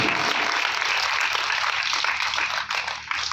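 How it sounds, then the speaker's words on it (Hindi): Loud, sustained applause from an audience at a Hindu religious gathering, many hands clapping together in a thick, even roar that dips briefly near the end. "जोरदार तालियां"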